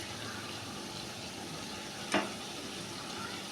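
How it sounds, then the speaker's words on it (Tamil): Brinjal masala gravy simmers and sizzles in a pan with a soft, steady bubbling hiss, broken once by a brief sharp clink midway. "கத்திரிக்காய் பாருங்கள் நல்லா தடத்தடன்னு வேக ஆரம்பிக்குது"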